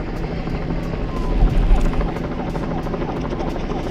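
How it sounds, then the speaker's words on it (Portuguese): A police helicopter searching from the air for thieves passes overhead with a loud, continuous rotor throb and engine drone, swelling briefly before holding steady, while a voice talks over it. "foi interrompido pelo barulho de um helicóptero voando no céu"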